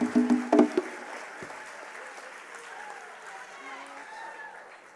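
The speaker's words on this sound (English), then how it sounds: "them another round of applause, everybody." Applause from a crowd at a university Kente graduation ceremony, a few sharp claps at the start fading into a steady, moderate patter of clapping with voices mixed in.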